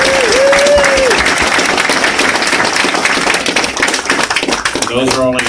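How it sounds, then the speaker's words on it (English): Applause fills a roundtable meeting room at an energy event, dense clapping running steadily throughout, with a brief voice near the start and some tapping near the end. "Let's have a round of applause for all of the presenters."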